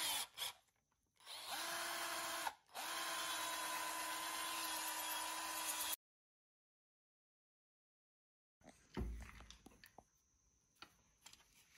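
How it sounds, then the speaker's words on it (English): A power drill whines steadily as it bores a hole into wood for a small letter box, in two bursts split by a brief pause, then silence, then quieter tool handling and scraping. "We're just going to choose one that fits the size and drill a hole."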